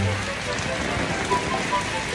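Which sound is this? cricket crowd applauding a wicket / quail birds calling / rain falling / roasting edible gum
rain falling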